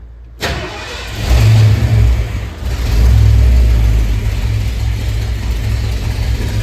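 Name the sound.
Ford Bronco engine starting and revving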